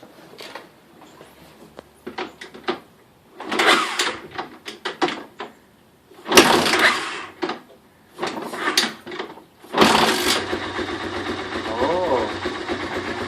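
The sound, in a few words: 1985 Honda 250SX ATC three-wheeler engine starting and running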